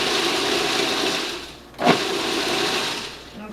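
A food processor pulses a mix of oatmeal for Scottish scones, a steady loud motor whir broken by one short dip and restart near the middle, with no talking.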